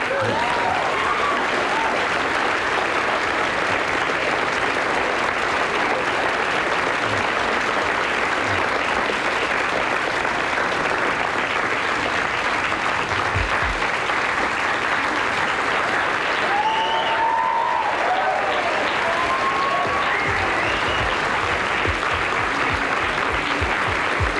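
Comedy club audience applauding performers at the end of a night of stand-up, a long, dense, loud roar of clapping that holds steady the whole time, with faint cheers and voices mixed in.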